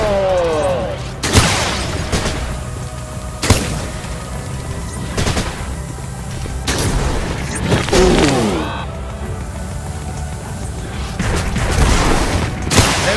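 Weapon fire in the Norse sci-fi game Gunnhildr, a halite-draining gun letting off several loud bursts and booming blasts at irregular intervals, with a voice speaking over the action between shots.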